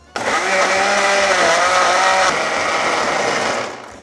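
An electric blender grinds pear, onion, salted shrimp, cold rice and water into kkakdugi seasoning: a loud, steady whirring roar that starts abruptly, shifts pitch slightly midway as the mixture smooths, then stops, with no talking.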